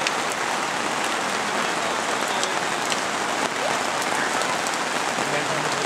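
Heavy cloudburst at a campsite, a dense steady roar of rain pounding surfaces throughout with no let-up, close and loud, a single sharper knock partway through.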